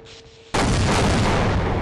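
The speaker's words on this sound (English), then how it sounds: "You know, explosions." A sudden loud explosion erupts in Half-Life: Opposing Force after a quiet moment, followed by a sustained heavy roar and rumble.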